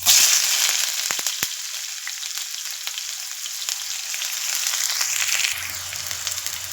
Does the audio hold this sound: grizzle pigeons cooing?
no